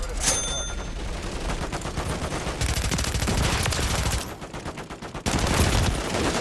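Rapid gunfire from Call of Duty: Modern Warfare III on the Shipment map, dense overlapping automatic bursts and shots filling the whole stretch, loud and continuous with brief dips, no talk.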